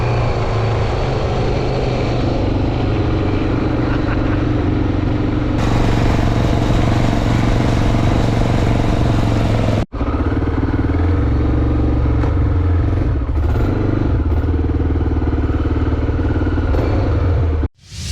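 A Honda XL motorcycle's engine drones loudly and continuously while riding, a close, rough mechanical roar with wind buffeting. The sound cuts out briefly in the middle, resumes at full strength, and stops abruptly at the end.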